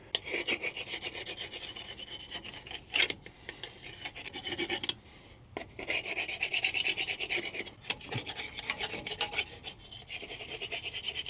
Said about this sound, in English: this defroster scraper's working great